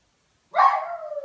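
Dog barking once, a single close, loud bark that tails off into a drawn-out whining yelp, after half a second of silence.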